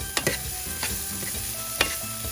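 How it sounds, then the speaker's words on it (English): Onions cooking in a pan sizzle softly and steadily, with a few sharp stirring scrapes and clicks close by; no talk. "My onions are cooking."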